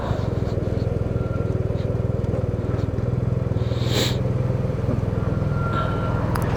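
Yamaha TMAX 560 scooter pulling into a fuel station, its steady engine drone with low rumble continuing throughout, close and fairly loud, with a brief higher whine midway.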